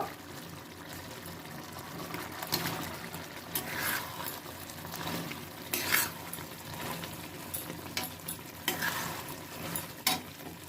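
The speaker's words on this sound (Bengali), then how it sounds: "এর ভিতর আমি চিকেনগুলো দিয়ে এক মিনিট নেড়ে চেড়ে নামিয়ে নেব" Chicken pieces stirred into a thick chili chicken gravy in a pan: a soft, low sizzle with repeated gentle scrapes and stirring strokes, fairly faint, with no talking.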